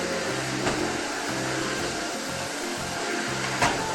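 A Philips Marathon or Arçelik 4540 vacuum cleaner runs steadily and loudly close by with a continuous motor whine, its tone wavering slightly as the nozzle moves during floor cleaning.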